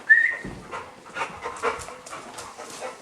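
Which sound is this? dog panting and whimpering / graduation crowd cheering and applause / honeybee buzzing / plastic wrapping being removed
dog panting and whimpering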